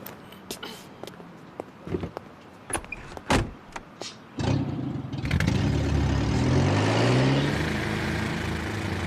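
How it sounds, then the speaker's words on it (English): A car passes by in a London street scene from the video game Professor Layton and the Curious Village, a rising engine rush that swells in after a few light clicks and knocks, then holds steady and fairly loud. "except for the car going through"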